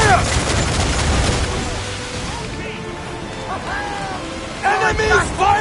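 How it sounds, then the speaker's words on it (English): A volley of enemy cannon and gunfire in Assassin's Creed IV: Black Flag – Freedom Cry, opening loud and dense before fading into softer naval battle noise, with brief whistling and voices near the end. "Enemies firing! They're firing!"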